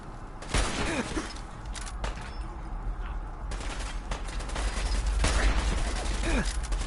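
Dense, continuous gunfire rattling through a Fallout 4 firefight at Park Street Station, with steady overlapping shots and clatter at a consistently loud level from start to finish.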